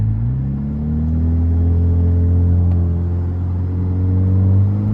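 A car engine drones low and steady at close range, its pitch swelling and easing slightly as it is revved through a downshift, with no talking over it.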